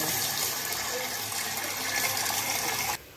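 Tap water arriving at a home's supply gushes steadily and loudly at close range for about three seconds, then cuts off abruptly, leaving a quieter room.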